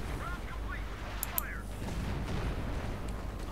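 Artillery fire in a Company of Heroes 2 battle with British forces, a steady low rumble of distant shelling and gunfire with a few sharp cracks, while a voice talks over the din.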